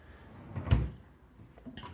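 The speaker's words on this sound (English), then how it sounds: "But this drawer does not close all the way." A drawer in a hotel room that does not close all the way, sliding with a single dull wooden thump in the middle and a lighter scrape and knock near the end, close and otherwise quiet.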